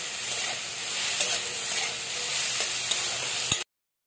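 Bitter gourd frying in a pan with salt and a pinch of turmeric, a steady broadband sizzle with light stirring scrapes, close and fairly loud, running continuously for about three and a half seconds before cutting off abruptly.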